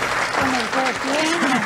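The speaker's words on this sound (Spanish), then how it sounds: "solicitamos a todos un fuerte aplauso a nuestros graduados" Crowd applause for graduates at a graduation ceremony, continuous clapping with cheering voices rising over it.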